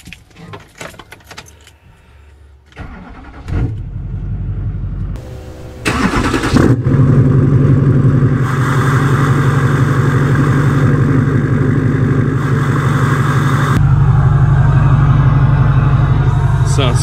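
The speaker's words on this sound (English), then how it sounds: "So let's go ahead and start her up." Diesel truck with an aircraft carrier horn fitted to its exhaust, keys jangling and clicks before the engine cranks and fires into a loud, steady rumbling idle that swells again near the end, with voices in the background.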